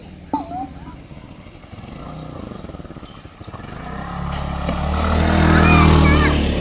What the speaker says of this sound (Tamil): இரு வண்டி வருதால பார்த்துட்டு போங்க.